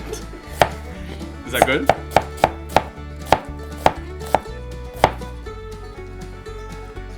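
A knife dices an onion on a cutting board: about ten crisp, sharp chops come at an uneven pace, some in quick runs, close and distinct. A brief spoken question is heard between them.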